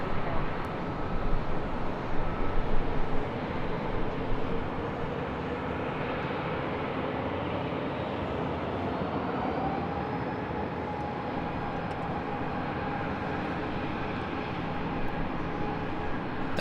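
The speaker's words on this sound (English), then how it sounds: "That was Southwest Airlines Flight 11 coming in from Las Vegas in the 737-700." A Southwest Airlines Boeing 737-700 arriving at LAX on a flight from Las Vegas, its engine roar a broad, steady rumble that holds at a constant distance, with a faint rising whine partway through.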